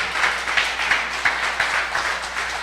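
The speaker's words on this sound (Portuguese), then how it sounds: "Dá uma salva de palmas mais uma vez para Jesus." A church congregation claps for Jesus during a sermon, a loud close rhythmic clapping in regular beats about three per second, like hands clapping in unison.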